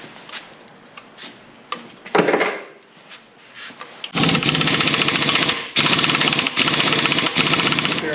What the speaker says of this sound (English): I couldn't explain it because the compressor was running.